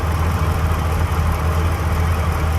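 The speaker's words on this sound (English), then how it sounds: "Now, this has a kind of a better at idle kind of lump, lump, lump." A 2015 Dodge Challenger SRT Hellcat's supercharged V8 idles close by with a deep, loping rumble, its steady lumpy pulse filling the air with no voices.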